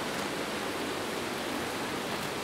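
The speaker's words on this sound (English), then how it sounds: "Sounds like there's a waterfall, I don't see it though." A waterfall in the Botany Manor video game gives a dense, continuous broadband rush of falling water, steady and fairly loud with no talk over it.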